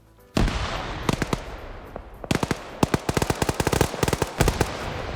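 A gunfire barrage in a video game, with rapid automatic bursts and scattered single shots crackling sharply and loudly in an uneven, continuous volley for several seconds.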